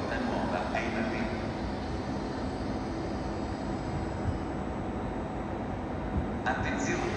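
A train rolls into Roma Termini station with a steady, broad rumble that fills the platform. Faint squeals rise from time to time, and a muffled voice is heard under the noise.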